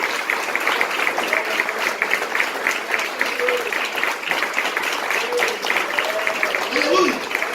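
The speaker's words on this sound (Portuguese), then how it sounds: "eu quero que aplauda o Senhor, porque ele está aqui no nosso meio" A church congregation applauds in a steady, dense wash of clapping that lasts throughout, with voices and faint vocal sounds mixed in.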